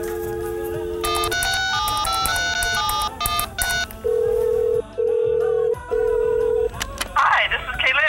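A yellow telephone calls out: a burst of dialing tones, then repeated ringback tones in even pulses, followed by the line picking up, with brief voice sounds near the end.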